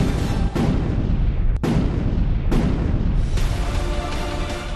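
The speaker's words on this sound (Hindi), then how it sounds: "और दुश्मन को चेताता तोप।" Artillery guns fire during a desert military exercise near a border, three heavy booms cutting through a constant loud rumble of engines and machinery, with no voices.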